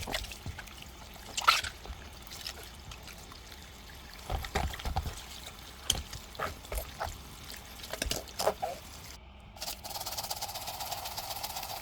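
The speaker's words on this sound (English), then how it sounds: "we just proceed to rinse the shoe to at least know how far we have gone with the initial scrubbing" A white sneaker is rinsed under water during cleaning, making quiet intermittent splashing and trickling bursts with short gaps between them, and a steadier stream of water near the end.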